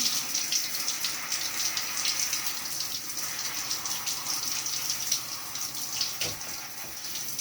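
Running water from a tap rinses a hand-tied cap wig in a sink, a steady close splashing gush that holds even through the whole stretch with no talking.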